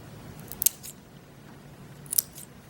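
Two quick, crisp snips of scissors cutting small miniature craft logs for a tabletop camp model, close and fairly quiet, separated by a short pause with no talking.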